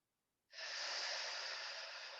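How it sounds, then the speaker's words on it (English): A single deep inhale during yoga practice, starting abruptly after a short silence and continuing as a long, steady, airy breath close to the microphone. "Take another inhale."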